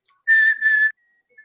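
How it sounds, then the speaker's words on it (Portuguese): Someone whistles two short, clear sustained notes of a melody, loud and close, with a faint trailing tone afterward and no talking. "quando você está assobiando uma música"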